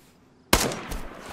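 A single loud, sharp SKS rifle gunshot in the video game DayZ cracks out after a moment of near silence, then a rumbling, reverberant tail trails off.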